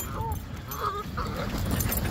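Geese honk a few times in quick, scattered calls, moderately close, over a noisy outdoor background.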